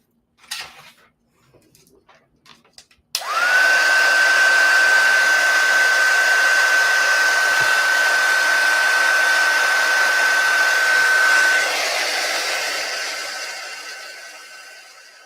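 A handheld heat tool blows steadily to heat set stamped ink on a card, starting abruptly after a few soft handling sounds and running as a loud continuous whoosh with a thin whine before tapering off.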